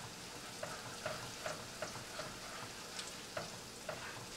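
Chili stirred into frying garlic oil, a quiet steady sizzle broken by regular soft scraping strokes of a utensil against the pan, about two per second.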